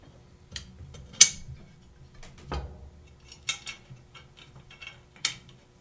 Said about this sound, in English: And screw it together.